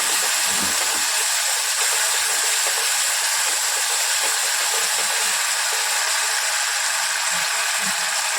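Spiced water is poured into a hot pan of chicken, bringing a loud, steady, steam-like hiss that carries on unbroken from start to finish with no talking.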